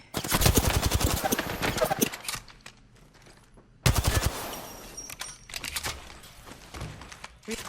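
Rapid automatic gunfire bursts in Apex Legends, a dense stream of shots for about two seconds, a pause, then another burst with scattered single shots trailing off; short game voice callouts are heard.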